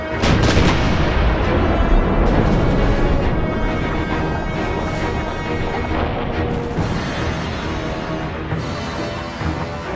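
The Point Nepean coastal gun fires, a loud heavy boom at the start followed by long rumbling reverberation and dense crackling that persists and slowly fades over several seconds.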